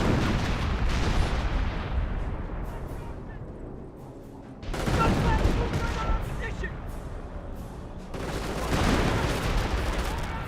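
Artillery in the Company of Heroes video game pounds forward emplacements with dense, rumbling booms and crackling gunfire in several surging waves, loud and continuous, while someone talks over the battle.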